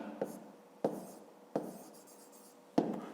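A pen taps and scratches on paper while numbers are written by hand during a fifth-grade division exercise. Four distinct strokes land at uneven intervals, quiet and close, with short scratchy trails after each one.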